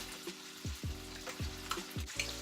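Food fries in oil in a pan for a keto cabbage dish, a close, steady sizzle broken by a few rhythmic low clunks of stirring, with no talking.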